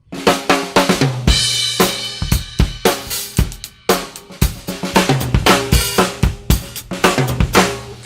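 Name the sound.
acoustic drum kit played, unprocessed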